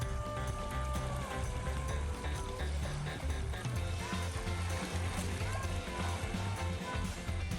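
Waves wash in and draw back over a pebble beach on Yokjido island in Korea, a continuous sloshing and rattling hiss with soft mechanical hum beneath, fairly quiet and without speech.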